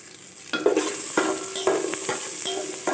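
Small shallots sauté in hot oil for a fish kozhambu, crackling steadily while a spoon scrapes and stirs the pan in several distinct strokes, close by with no talking.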